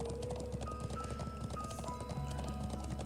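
Horse hooves clip-clop at a steady galloping rhythm in the Trails of Cold Steel video game, close and continuous over game music for a few seconds.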